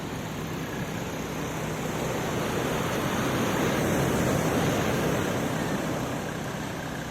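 Surf rolls steadily at Singarayakonda Pakala beach, a broad continuous wash of breaking waves that swells slightly midway, heard alone without talk.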